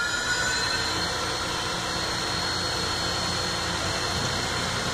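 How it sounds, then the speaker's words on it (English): In a machine shop around a Tormach PCNC 1100 CNC mill with an automatic tool changer, an air compressor gives off a constant, loud, broadband drone throughout, with no distinct mechanical events and no speech. "So there's the automatic tool changer. Hear the air compressor in the background."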